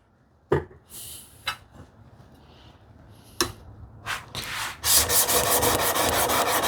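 Vintage plane blade scraped back and forth on 250 grit abrasive paper, a few separate rubbing strokes at first, then a steady run of quick, close, loud grinding strokes.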